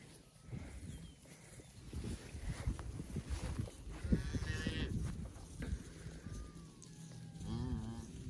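Cattle moo and bawl as they are turned out onto green grass, several overlapping low calls at a moderate distance over a busy outdoor background.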